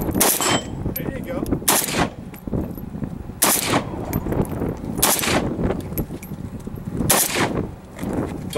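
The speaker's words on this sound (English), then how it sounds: "Come on, rock and roll, 3-round burst" Five loud, well-spaced bursts from a firearm fired in 3-round bursts at an outdoor gun range, each a tight cluster of sharp cracks, with quieter shots and background noise between them.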